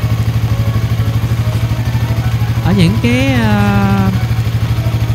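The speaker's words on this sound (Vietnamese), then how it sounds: "cái tiếng động cơ đặc trưng của dòng DOHC anh em ha" A Suzuki GSX-S150 motorcycle with a DOHC engine at about 14,000 km idles steadily with an even, rapid pulsing beat, while someone speaks briefly over it.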